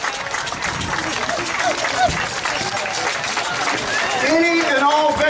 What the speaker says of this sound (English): we'll keep applauding until the last one makes his way in